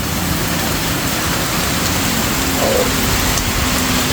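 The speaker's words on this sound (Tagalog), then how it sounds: "Grabe, lakas ng ulan dito." Heavy rain pours down in a steady, dense roar, close and unbroken throughout, with no voices.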